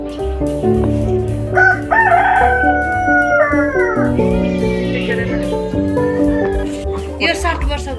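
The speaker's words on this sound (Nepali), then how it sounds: "यो 7 वर्षको भाले थियो" A seven-year-old local Nepali rooster on a chicken farm crows loudly and close, with drawn-out calls rising and falling over several seconds, while other fowl cluck and voices murmur in the background.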